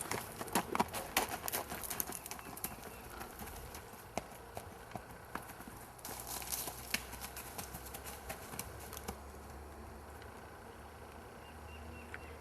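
A ridden horse's hooves clip-clop on a trail at a walk, faint, uneven thuds under a soft outdoor background with occasional bird sounds.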